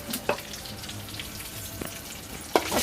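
Urad dal and peanuts fry in hot oil with a soft, continuous sizzle. Two or three sharp pops or crackles break through the hiss.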